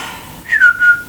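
A person gives a short bird-like whistle imitating a bird call, a brief rising then falling tone with two quick pulses, close and fairly loud.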